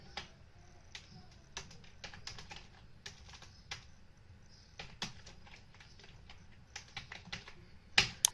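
Computer keyboard being typed on while entering a search, with irregular quiet key clicks at close range and a sharper cluster of taps at the end.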